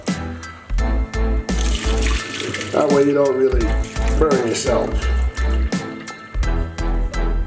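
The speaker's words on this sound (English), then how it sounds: "put some cold water on it." Cold water running from a tap over boiled saltfish, a steady splashing stream interrupted by pauses, with a person talking in the middle.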